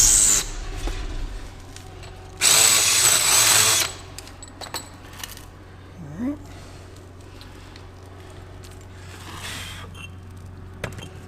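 A power drill countersinks a hole in a block in one loud, close burst lasting about a second and a half, followed by quieter handling knocks and scattered small sounds.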